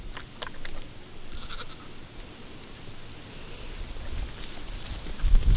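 Goats bleat intermittently outdoors, a few short calls rising over a soft, rustling background, fairly close and moderately loud.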